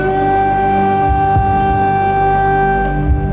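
Air raid siren wailing over Kyiv during the war, a loud, sustained droning tone that holds steady throughout with faint rumbling beneath.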